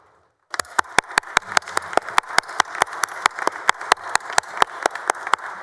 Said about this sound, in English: Members, please join me in welcoming the guests from Grayson County with a well-deserved round of applause